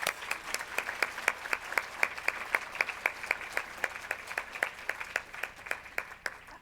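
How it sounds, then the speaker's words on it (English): Audience at a charity benefit lunch clapping in a fairly faint, steady rhythm, individual claps standing out evenly with little else around them. "Please, a round of applause for everyone."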